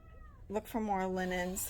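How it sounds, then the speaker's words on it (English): A house cat meows twice close by, a short call followed by a longer drawn-out meow, while a person speaks briefly at the start. "That's my cat."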